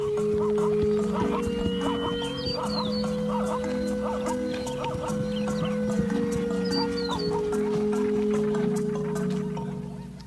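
Newborn zebra foals move about in the open, with whinnying calls rising over a steady background and occasional hoof clatter, fairly close and continuous with no talking.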